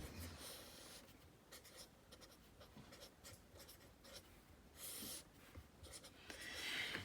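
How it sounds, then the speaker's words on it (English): A marker or chalk writes on a board during an algebra lesson on the quadratic formula, producing faint, intermittent scratchy strokes with short pauses, heard quietly against a low room hum. "I'm going to write it down again."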